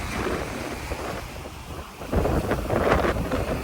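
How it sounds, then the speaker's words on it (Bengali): Strong wind on a Boracay Island beach in the Philippines, heavy buffeting rumble against the microphone with surf-like roar underneath, gusting harder in the second half. "বাতাসের এমন অবস্থা যে আমার মনে হচ্ছে যে আমি নিজেই উড়ে যাব"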